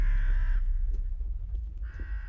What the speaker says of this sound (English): I've got crows in my house.